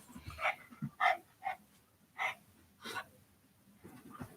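A dog chews on a toy hippo at close range, producing soft irregular gnawing, snuffling and wet mouth noises in short bursts, with breathy pants in between.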